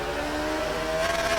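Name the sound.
BMW 134 with Judd V8 F1 engine, RaceRoom video game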